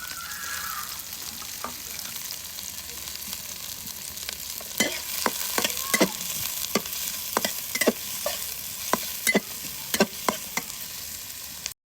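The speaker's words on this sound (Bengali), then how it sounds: "তেলের মধ্যে পেঁয়াজ, কাঁচামরিচ কুচি দিয়ে দিলাম" Chopped onion and green chili frying in oil in a wok, a continuous sizzle with a series of sharp spatula scrapes and knocks coming faster in the second half, close by.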